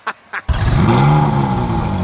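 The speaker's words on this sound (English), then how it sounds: "it sounds good. Gotta love a Ferrari V8" A Ferrari V8 with its stock exhaust fires up and revs, a loud close roar that swells and holds after two short blips at the start.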